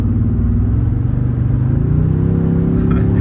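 2023 Toyota Tundra pickup accelerating from about 45 mph, a loud, deep continuous engine rumble heard from inside the cab, rising slightly in pitch as the revs build.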